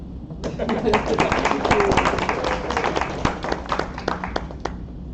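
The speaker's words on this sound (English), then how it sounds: "Yeah, you can clap." Small audience at a Chicago Java meetup clapping after a programming talk, a few seconds of close, uneven hand claps with voices murmuring underneath.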